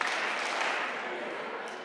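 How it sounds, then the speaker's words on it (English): A meeting audience in a chapel claps in a dense burst that fades slightly toward the end, with no talk over it. "clap twice"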